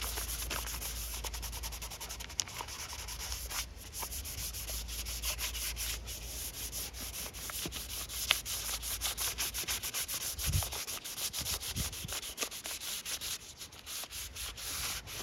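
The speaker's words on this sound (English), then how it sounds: "The finer sandpaper does not take out those divots and cracks and stuff like that." Fine sandpaper rubs steadily over a hand-made greenwood coffee table, a continuous close scratchy hiss with rhythmic back-and-forth strokes and a few light knocks.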